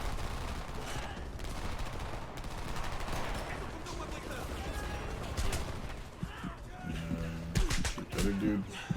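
Rapid gunfire bursts from a Homefront firefight echo through a dense, noisy battle mix, with sharp louder shots near the end as a player talks over the action.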